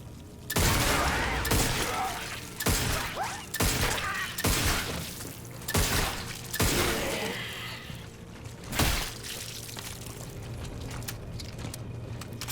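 Hand cannon blasts aimed at a parasite in The Callisto Protocol, about eight heavy, loud, spaced shots with crashing impacts, thinning toward the end.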